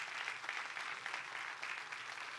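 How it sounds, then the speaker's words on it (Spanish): Faint, distant applause from a Spanish-speaking church congregation during a sermon, a soft uniform patter of many hands clapping steadily without pause. "Denle un fuerte aplauso a Dios por eso."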